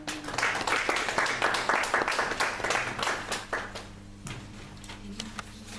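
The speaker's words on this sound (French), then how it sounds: "Acclamons pour Jésus." A congregation at a Christian worship service claps and cheers for Jesus: dense, fairly loud applause with a rhythmic pulse that fades after about four seconds, while a low sustained musical hum continues underneath.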